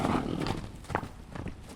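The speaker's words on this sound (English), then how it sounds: "The American Standardbred, another one of RDR2's racing horses." Hooves of an American Standardbred horse in Red Dead Redemption 2, a few soft clip-clop steps at a walking pace over a low, faint background.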